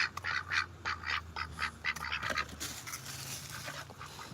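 Ducks quack in a rapid series of loud, nearby calls in a backyard with chickens, continuing with a busier jumble of farmyard sounds.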